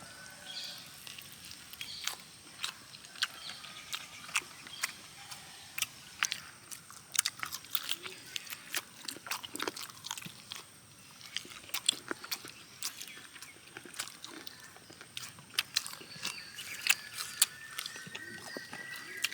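Someone eating Chinthamani chicken cooked with dried chillies and shallots in a village kitchen: soft, close chewing and biting with frequent small crisp clicks and smacks, quiet and continuous with no talk.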